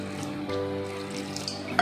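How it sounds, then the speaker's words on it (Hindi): Water pours into a cooking pot that already holds turmeric, salt and grated ginger in a home kitchen, a short steady stream. No one speaks. "और मैं थोड़ा पानी डाल देती हूँ इसमें।"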